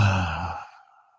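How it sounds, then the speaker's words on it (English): A single audible exhale during yoga breathing, a close, breathy sigh that trails off into quiet within about a second. "Audible exhale"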